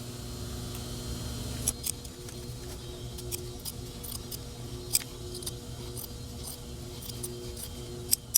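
Scissors snip through denim while shortening a pair of jeans, a series of sharp, isolated clicks and snips spaced irregularly over a low steady hum, close and fairly quiet.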